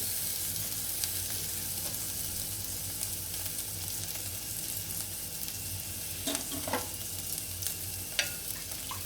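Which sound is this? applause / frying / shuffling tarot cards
frying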